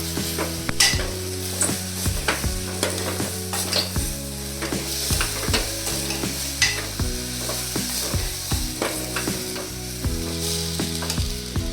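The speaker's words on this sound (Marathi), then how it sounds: "मी फोडणीमध्ये टाकलेले आहेत तांदूळ." Rice fries in an oil tempering with turmeric for a Maharashtrian khichdi, with a constant sizzle under repeated scraping stirs of a spoon against the pan, close and busy.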